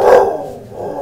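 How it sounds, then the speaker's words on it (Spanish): A dog barks once at a neighbour, a single short, fairly close bark fading into a low background hum. "mi perro está ladrando a la vecina"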